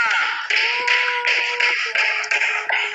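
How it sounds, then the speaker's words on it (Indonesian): Audience applause at a 2022 kick-off event, with dense broadband clapping running steadily throughout, loud and close, while a faint voice or tone lingers underneath. "berikan tepuk tangan nomor 10 kepada gold elite kita, Bapak Mas Triandi dan Ibu Kenny Kanita."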